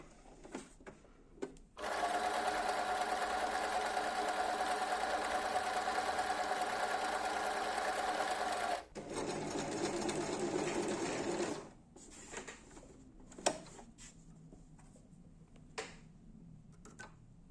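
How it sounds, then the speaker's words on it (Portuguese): Domestic sewing machine running an overlock zigzag stitch on fabric: a steady, close mechanical whirring with fast rhythmic ticking for about seven seconds, a brief pause, then a shorter second run, followed by faint handling clicks. "vou costurar normalmente para vocês verem como é que fica"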